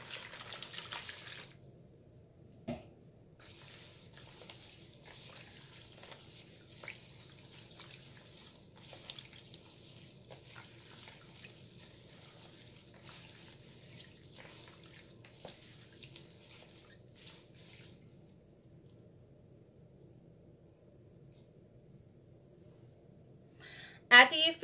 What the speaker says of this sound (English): get some water and rinse your rose petals off.